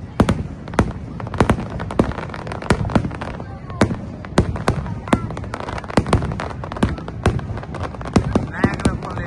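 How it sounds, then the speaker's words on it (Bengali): A night fireworks display at Niagara Falls sends out a long run of sharp, loud bangs at an irregular pace, with a crowd murmuring and people talking underneath. "নায়াগ্রা ফলসের রাত 10টার সময় যে ফায়ার ওয়ার্কসটি হয়"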